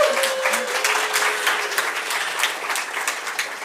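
Conference audience in an atrium room applauds a recent PhD graduate; brisk, close clapping runs throughout, with a brief voice at the start.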